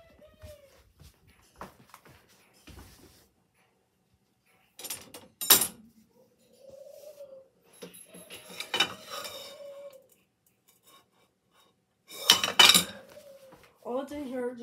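Spoons rattling and clinking inside a container in a few separate bursts, with quieter handling noises and a voice murmuring between them.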